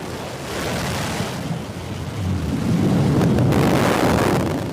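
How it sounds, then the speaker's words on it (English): The BE-3 rocket engine on Blue Origin's New Shepard booster relights during descent, a broad roaring rumble that swells and thickens partway through, steady and loud, with no voices. "There's the relight of that BE-3 engine."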